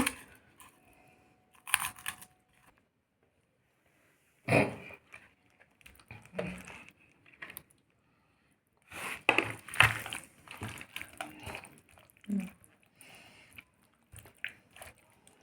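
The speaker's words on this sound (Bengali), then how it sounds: "এইভাবে টমেটোর ভর্তাটা মেখে নিচ্ছি" Tomato bharta is mashed and mixed by hand with fried garlic and chilli, heard as close, soft squishing and crunchy bursts that come in irregular clusters separated by near silence.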